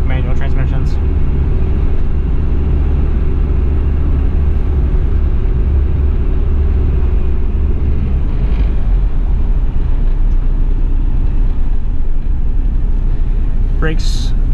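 A 1991 Toyota Land Cruiser PZJ70 diesel 4x4 drives along with a constant deep engine and road rumble inside the cab. A person talks throughout over the steady drone.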